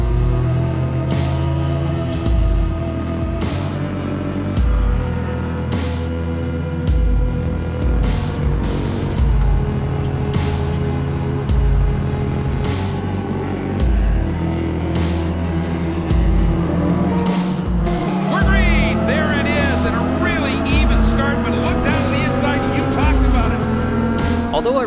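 A Honda Civic race car lapping at Watkins Glen, its engine droning and shifting pitch loudly from inside the car as it climbs through the gears, with wind rush, mechanical clicks and a voice talking over it.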